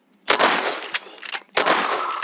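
Video game gunfire in a level, two bursts of rapid automatic shots separated by a short gap, loud and crisp with no talking.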